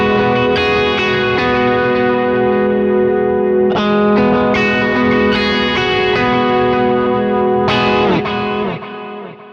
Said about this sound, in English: this wow and flutter knob right here. It adds just a little bit of warble that gives it some movement